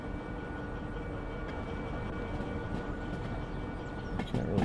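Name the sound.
train running in a video game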